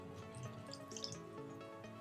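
Water is poured into a bowl of dry ingredients during home cooking, giving a soft, quiet trickle and drip over a steady background hum.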